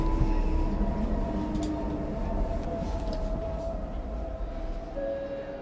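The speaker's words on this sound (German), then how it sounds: "Vom Bahnhof zum Flughafen nehme ich die S-Bahn" An S-Bahn suburban train running from the station toward the airport gives a steady, continuous rumble with a few brief squealing tones over it, heard alone at close range with no voices.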